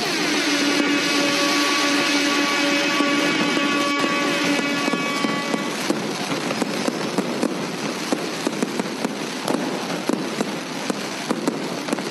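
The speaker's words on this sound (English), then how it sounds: "That nasty noise on the AM band." Radio interference on the AM band comes through a receiver as a harsh, dense buzzing hash with whining tones early on, then rough crackling static pulses, loud and continuous with no speech.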